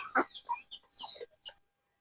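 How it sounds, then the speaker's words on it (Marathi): A handful of quiet, short clucks from free-range village chickens nearby, spaced irregularly over a couple of seconds before falling silent. "ह्या आहेत आपल्या गावरान कोंबड्या"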